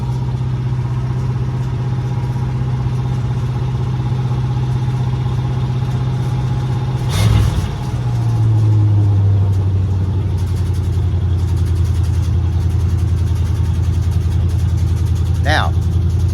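A 1986 Chevrolet C10 Suburban with a 350 V8 idles with a steady low rumble, warming up, with a brief rev partway through and people talking nearby.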